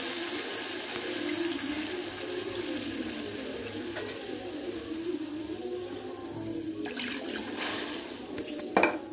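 Water pours from a glass into a pan of tomato pieces for Bombay rava upma, a steady rushing splash that runs through the clip, with a few light clinks of a utensil near the end.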